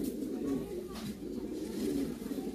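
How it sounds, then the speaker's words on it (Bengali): Pigeons coo softly at a large Lahore pigeon farm holding 26 pairs in many colours, a low steady murmur of overlapping coos with a faint bird chirp above. "এনে পুরো 26 জোড়া কবুতর আছে।"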